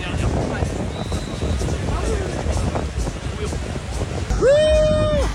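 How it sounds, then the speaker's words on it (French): Sea waves wash steadily onto a beach at a triathlon in Deauville, a broad continuous surf roar with wind buffeting the microphone, and a brief tonal sound near the end. "Il y a des vagues."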